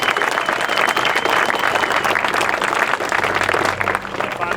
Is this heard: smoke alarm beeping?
no